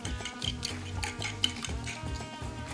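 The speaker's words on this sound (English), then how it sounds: "Now give it a quick whisk with a fork." A fork whisks eggs in a bowl for breakfast tacos: quick, light, continuous clicking and tapping against the dish, soft and close with an even beat.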